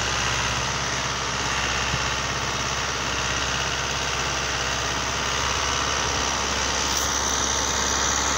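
A Euro Ford 5880 tractor engine, with a deep-down cultivator fitted, runs at steady normal revs, a loud, continuous mid-pitched diesel drone with no change in speed and no talk.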